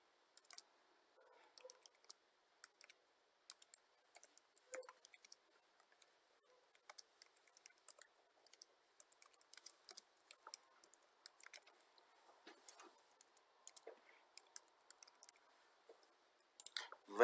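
Soft, irregular clicks of a computer keyboard being typed on while defining a data dictionary in SPSS, faint and close, in quick scattered bursts with short pauses and no voice.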